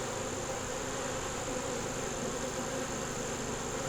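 Honey bees in an open hive busy repairing wax moth damage, giving a steady, dense buzz of many wings close by, unbroken and alone.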